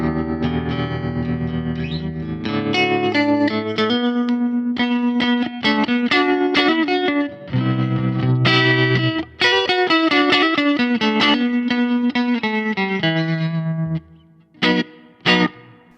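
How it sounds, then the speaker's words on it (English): A Fender Mustang Micro plays electric guitar through its vintage tremolo and reverb setting, with strummed chords and picked notes pulsing steadily and ringing into a wash of reverb, ending in a few sharp stabs. "This is vintage tremolo and reverb."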